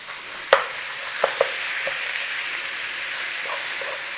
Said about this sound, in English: In there, your beef mince. Start cooking and breaking it down.